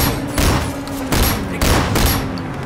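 Automatic weapon fire in the Sleeping Dogs video game, loud sustained bursts of rapid gunshots with brief lulls between volleys over roughly three seconds.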